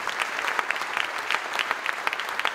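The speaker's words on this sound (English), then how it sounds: "help me give a big round of applause to Hannah Halo Richards" An audience at This Is My Brave, a live show in Los Angeles in 2022, applauds Hannah Halo Richards. Dense, moderately distant clapping runs steadily throughout, with sharper individual claps popping out.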